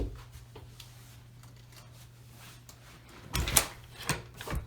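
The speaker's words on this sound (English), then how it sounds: "Door latches perfectly." A door latch clicks shut into a newly installed strike plate on a reinforced door jamb, giving a brief sharp close with a couple of follow-up knocks after a quiet stretch with a low hum.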